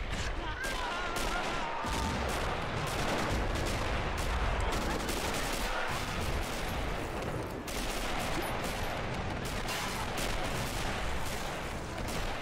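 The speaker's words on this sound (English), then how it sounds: "Let's take some shots with the artillery of the Greens." Artillery and gunfire in a toy army men video game battle on a large map, a dense continuous barrage of overlapping shots and booms, steady and loud throughout.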